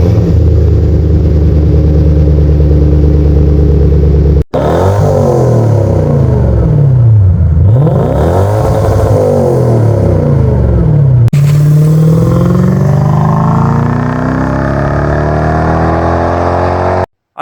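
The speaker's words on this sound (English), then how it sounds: "So let's get right into the cold start." A car with an aftermarket exhaust cold-starts loud and close: a rough idle, then repeated revs rising and falling, a brief cut, and a final long climbing rev before the engine settles.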